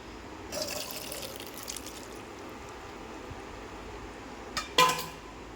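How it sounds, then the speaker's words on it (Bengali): Water drains and drips from soaked sago pearls in a kitchen, a faint trickle with soft splashes and a sharper clatter of a dish near the end. "চলুন আমি এটাকে জল ঝরানোর জন্য রেখে দিই"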